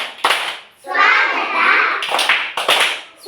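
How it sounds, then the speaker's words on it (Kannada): A group of children does the swagata welcome clap pattern, a few crisp clap bursts framing a stretch of loud chanting by young voices, close and lively. "ನೆಕ್ಸ್ಟ್ ಸ್ವಾಗತ ಚಪ್ಪಾಳೆ."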